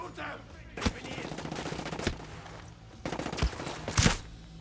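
Gunfire in the video game Ghost Recon Breakpoint, several sharp loud shots and short bursts spread across the clip over a steady game background.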